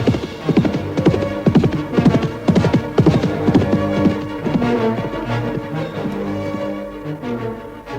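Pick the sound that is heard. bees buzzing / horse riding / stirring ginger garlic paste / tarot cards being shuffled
horse riding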